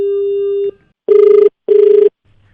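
Electronic telephone ringer sounding in bursts: one long steady tone, a pause, then two shorter pulsed rings of equal length, loud and close with no talking.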